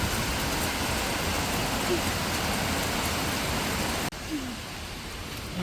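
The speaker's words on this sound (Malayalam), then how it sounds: "നല്ല മഴ" Steady heavy rain pours down in a dense, continuous hiss that briefly dips near the end before resuming.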